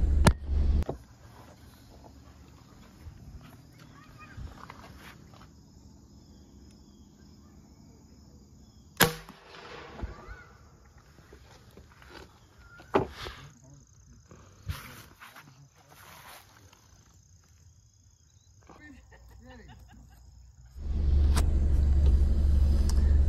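Umarex Saber air bow firing a Badger broadhead arrow: sharp cracks of release amid faint background noise, then a loud sustained rush closing the clip.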